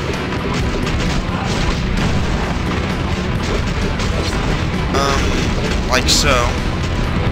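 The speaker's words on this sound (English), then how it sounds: "you can destroy the launcher platforms" Launcher platforms blowing up in the X-Men Legends video game, heavy booming blasts and crashing debris over continuous game noise, with someone talking briefly near the end.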